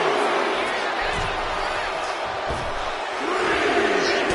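Crowd roars and cheers in a WWE 2K26 video game wrestling match, a steady, dense wash of arena noise with brief swells, carried loud throughout.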